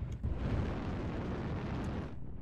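Artillery strike in the video game MechWarrior Online, a deep, rumbling blast with a sustained roar that holds loud for about two seconds before cutting off.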